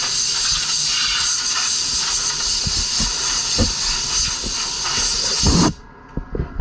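A loud, steady blast of compressed air blowing dust off a surfboard in a shaping room, with small knocks underneath, ending abruptly and followed by a few quiet clicks.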